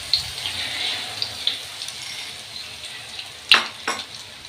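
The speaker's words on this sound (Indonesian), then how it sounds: "Ini goreng telur crispy harus minyaknya harus agak banyak" A crispy omelette fries in plenty of hot oil, giving a steady close sizzle broken by a few louder spits and crackles, with no talking.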